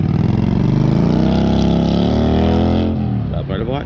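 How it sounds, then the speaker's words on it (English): A close, loud engine drones steadily for a few seconds as a motorbike goes by, then the sound drops away sharply near the end. "Motorbike."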